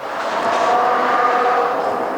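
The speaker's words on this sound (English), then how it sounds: "You got all kinds of motorcycles or something going by." Steady, loud engine roar of motorcycles passing by nearby, sustained and broad without a clear start or stop.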